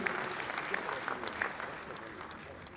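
Applause for the chairman of the National Council for Civic Education and Democracy rises from an audience at a formal event, a steady spread of clapping that holds at moderate level throughout.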